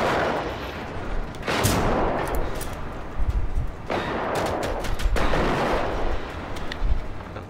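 Gunfire in Generation Zero, several loud, booming shots and bursts with long echoing tails, repeating irregularly and close by.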